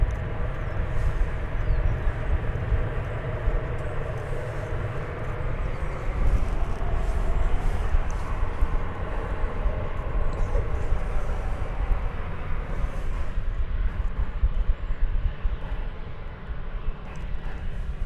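Airbus A380 jet touching down at DFW Airport, its engines giving a loud, steady broadband roar with deep low rumble that holds throughout, close by and alone with no talk.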